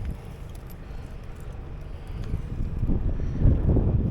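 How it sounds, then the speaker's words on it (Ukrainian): Gusty wind roars and buffets the microphone outdoors, swelling louder toward the end, with no talking. "холодно, такий вітер холодний, що просто капець"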